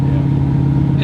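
A 650 hp 1970 Chevrolet Camaro with an LS7 V8 and loud exhaust gives a loud, steady low engine drone with a deep exhaust rumble, continuous throughout at cruising pace, with no talking over it.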